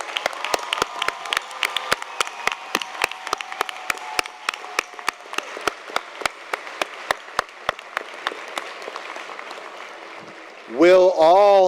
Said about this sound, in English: One more round of applause for our occupational certificate graduates.